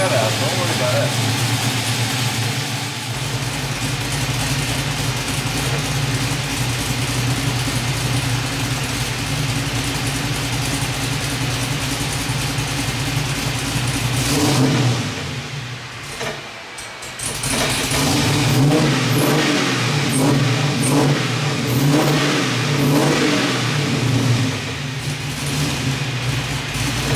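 LS-swapped 1973 Chevrolet Nova with a Magnaflow 15896 exhaust, its engine running loud and steady with a deep rumble throughout, briefly dipping midway before picking back up, with people talking over it.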